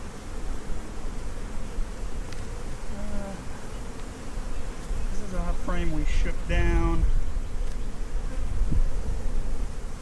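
Honey bees buzz in a dense, continuous hum around hive frames being shaken down while a hive is split in spring, close and steady, with someone talking briefly over the swarm sound.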